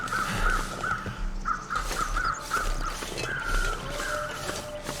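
Crows caw repeatedly in the snowy wilderness of the survival video game The Long Dark, a series of harsh calls in a steady rhythm heard clearly over a low ambient wind bed.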